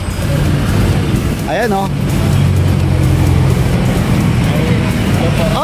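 A Toyota Hilux 4x4 pickup with a reported fault runs steadily nearby, its low engine rumble continuous beneath a man's brief speech.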